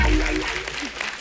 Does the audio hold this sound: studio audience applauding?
yes